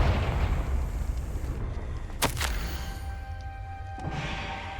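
Confringo fire spell blast in the Hogwarts Legacy video game, a loud booming burst of noise that fades into a crackling rumble, then a sharp crack and a lingering tonal hum.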